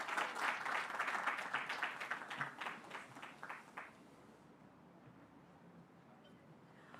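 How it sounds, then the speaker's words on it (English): An audience applauds at the official launch of a company office in Rwanda, brisk clapping loud at first, then thinning into scattered claps before fading to a quiet room after about four seconds. "I think she deserves another round of applause."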